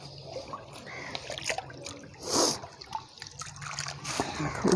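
Water poured from above over harvester-cut wheat grain being washed by hand in a village, with trickling and splashing that swells briefly mid-clip over steady background noise and people talking.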